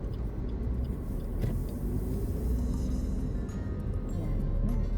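Road traffic on the Maharlika Highway rumbles steadily, with a constant low vehicle roar of passing cars and engines close by and no pauses.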